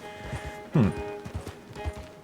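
A horse in a video game trots with rhythmic clip-clopping hooves, fairly close and steady, with one louder burst partway through.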